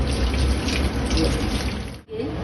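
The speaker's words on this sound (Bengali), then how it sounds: "ফুল ডাঁটাটা আমি সিদ্ধ করে নিলাম জল থেকে আমি এটা তুলে নিচ্ছি" Boiled ghetkul flower stalks being lifted out of reddened water, with a steady splashing and trickling of water running back into the pot, fairly loud and continuous, with a brief dip near the end.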